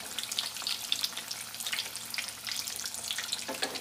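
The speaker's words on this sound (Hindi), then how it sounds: "अब हम इन्हें हल्का गोल्डन ब्राउन होने तक दोनों साइड से फ्राई करेंगे।" Vada, spiced potato fritters for vada pav, fry steadily in hot oil over medium heat, a close, continuous crackling sizzle with no talk.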